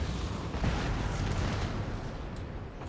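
Artillery in Napoleon: Total War booms in a rolling volley, deep low rumbles blending into one another, fairly distant and dull, with no voices over it.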